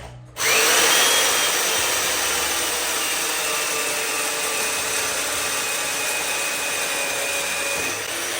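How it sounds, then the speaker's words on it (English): A chain mortiser cuts a mortise in oak for a pergola frame. It starts up abruptly and keeps a loud, steady high whine with grinding underneath, then eases off near the end. "obviously you just saw me with the chain mortise there"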